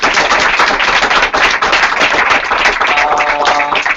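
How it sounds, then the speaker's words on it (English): Loud, sustained applause from an audience, dense overlapping hand claps at a steady level with no break for the full stretch. "round of applause."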